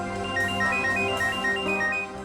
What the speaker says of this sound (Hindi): सर निखिल का फोन।